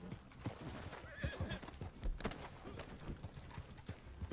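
Horse hooves clip-clopping along with a horse neighing and whinnying in a video game, over a busy background with scattered thumps.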